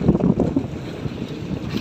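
Steady rumble of a boat moving over water, with wind buffeting the microphone and a faint wash of waves throughout.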